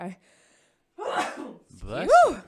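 One close, sharp sneeze: a breathy intake followed by a loud voiced burst.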